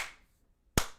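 Two hand claps by a single person, close and crisp, the first fading as the clip opens and a sharp, louder clap following after a short silence.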